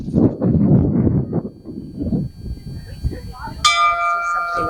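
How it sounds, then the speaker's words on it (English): A dinner or alarm bell on a tour in St. Kitts rings out bright and sustained near the end, after a stretch of indistinct voices and background murmur. "That's the dinner bell, or the alarm that says someone's coming."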